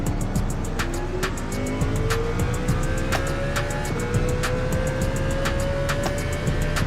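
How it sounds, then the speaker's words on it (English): A steady, synthetic-sounding car engine in the racing game Gran Turismo 7 drones with rising pitch as it shifts gears, accompanied by regular clicking ticks, no talking. "I also like the sound this car makes"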